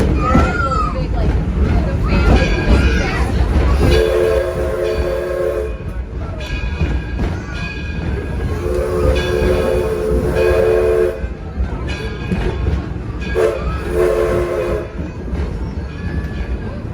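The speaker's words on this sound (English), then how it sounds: "The locomotive pulling us today is our 1932 Edison." A train pulled by a 1932 Edison locomotive rolls steadily with loud wheel rumble, and its horn sounds in three long blasts with a few short toots, while passengers chatter in the background.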